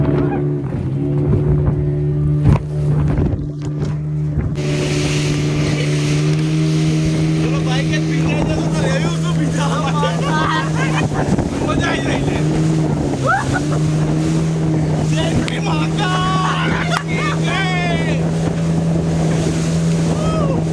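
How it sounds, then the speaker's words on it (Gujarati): Speedboat ride on the sea, with a steady engine drone and hull slapping over waves in strong wind, continuous throughout while people talk over it. "જો ભાઈ સ્પીડ બોટિંગ કરવા જઈ રહ્યા છે અમે લોકો"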